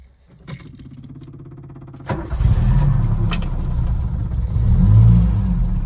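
A cold Ford Capri with a Weber 32/36 carburettor and a poorly working choke cranks briefly, catches and settles into a loud, rough, uneven idle with slight revving. A key jangles just before it starts.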